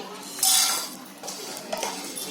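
Whole spices are dry-roasted in a pan while a metal spoon stirs them, making scraping and clinking against the metal. A brief rattle is followed by softer scrapes, close by, with no talking.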